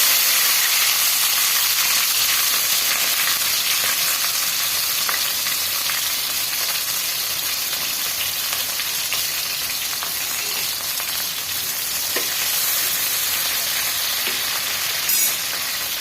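Green chillies sizzle and crackle steadily in hot oil in a close, continuous frying hiss with occasional pops, no voices over it.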